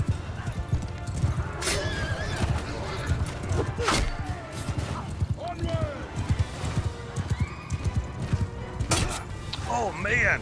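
Horse neighing in the medieval war game Realm of Thrones, with rising whinny calls over clip-clopping hooves and battle clatter, while a person talks throughout.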